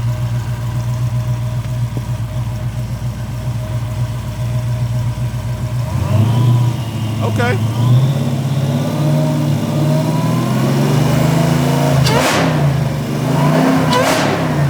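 A Dodge Charger Scat Pack 392 engine idles, then revs up repeatedly with a rising supercharger whine layered over the roar, close and fairly loud.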